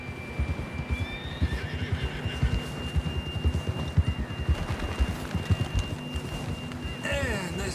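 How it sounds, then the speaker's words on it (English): Horse whinnies and hoofbeats from the video game Red Dead Redemption 2, a neigh rising near the end over a busy low rumble of movement and background game sound, with a steady tone running through. "And this John was riding that horse when we left Blackwater."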